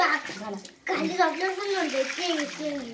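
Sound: water poured over a child during a bath

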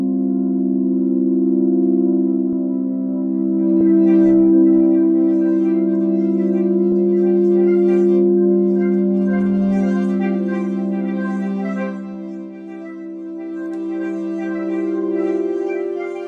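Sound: vintage tape recordings of processed sine waves, mod wheel moved

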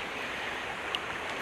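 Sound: flowing creek water, Ribeirão Cafezal

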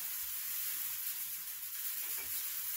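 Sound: hailstorm hitting the roof

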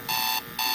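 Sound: SoundGear digital clock radio alarm sounding

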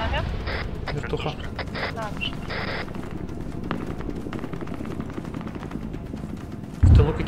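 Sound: gunshots from the rear in video game ArmA 3

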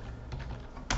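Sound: typing on a computer keyboard

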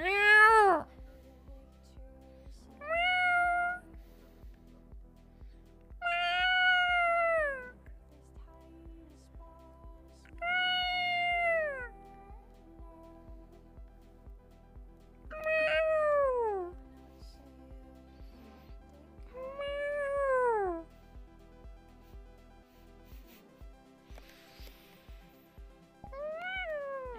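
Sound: person imitating a cat meowing

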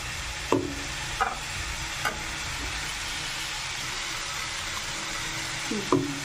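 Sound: stirring small eggplant pieces frying in a pan

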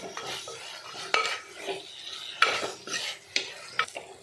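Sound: stirring grated coconut in a frying pan

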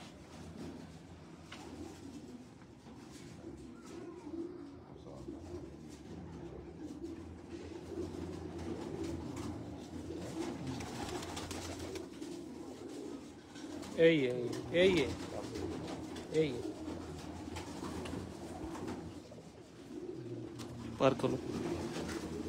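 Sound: pigeons cooing

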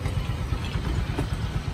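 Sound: Yamaha Freego 125i scooter engine running

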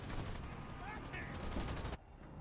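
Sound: gunfire from enemy air units, from video game Halo Wars 2

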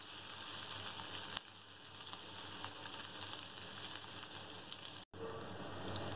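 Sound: chopped onion frying in hot oil in pan

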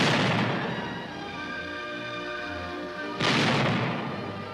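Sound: tank gun firing

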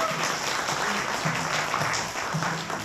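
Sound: applause at a first-birthday party

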